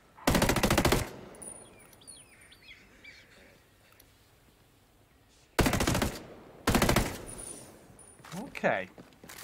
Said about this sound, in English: Oh dear, that shooting.